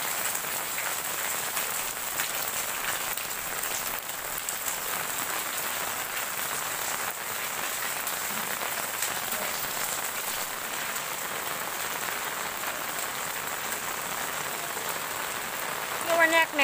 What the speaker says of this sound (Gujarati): વરસાદ આવવાનું સ્ટાર્ટ થઈ ગયું